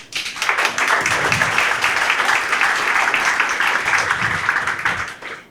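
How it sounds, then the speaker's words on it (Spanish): Audience applause at a presentation introducing mining-industry speakers, a sustained crowd of hands clapping steadily and fairly loud for about five seconds before fading out. "Fuertes palmas, por favor."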